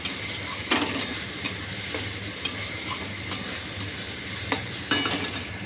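Duck meat with tomato and garlic sizzles in a pan as a spoon stirs it, with regular scraping clicks over a steady fry, close and without talk.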